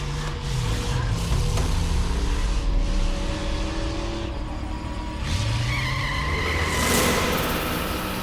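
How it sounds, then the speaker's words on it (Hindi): A car skids and spins round and round in a crime drama scene, with tyres squealing and a whining engine over continuous road noise, steady and fairly loud throughout. "वो गाड़ी कब से गोल गोल घूम रही है।"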